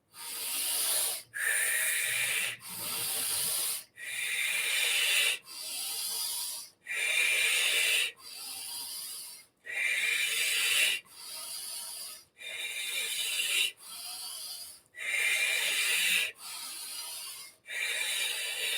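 Forceful, rapid breaths in a breathwork exercise repeat in a steady rhythm, about fourteen hissy inhales and exhales close to the microphone with short pauses between.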